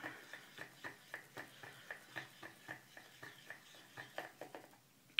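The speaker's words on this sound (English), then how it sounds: "So I'm going to stir this up." Homemade graffiti mop ink mixture being stirred in a container, a steady run of about twenty soft rhythmic scraping strokes, close and fairly quiet.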